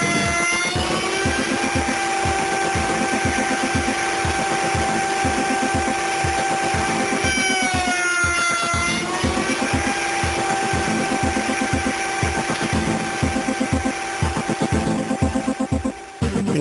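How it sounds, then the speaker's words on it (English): A router table cuts both ends of door rails held in a coping sled, giving a loud, continuous high-pitched motor whine with rough, choppy cutting noise close by and no voices. "Now you're ready to secure your rails in the coping sled and cut both ends of each piece."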